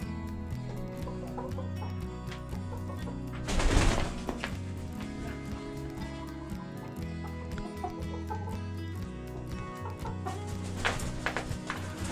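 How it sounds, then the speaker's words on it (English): A rooster and his hens on a homestead cluck steadily and close by for the whole stretch, layered chatter with a brief louder flurry partway through, and no talking. "let's catch up with Mr. Speckles, our rooster, and his hens."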